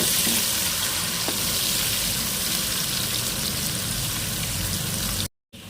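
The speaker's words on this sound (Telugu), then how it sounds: "వీటిని బాగా బ్రౌన్ కలర్ వచ్చేంత వరకు వేయించుకోవాలి" Ingredients for a fish curry frying in hot oil until browned make a dense, continuous sizzle close up with no talking. The sound cuts out briefly near the end.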